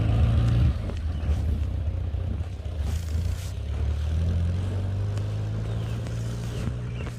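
A 1959 Morris Minor Traveller woody station wagon, a barn find with a sticky clutch, driving in second gear, its engine a steady low drone with a brief louder rev at the start, loud and close throughout.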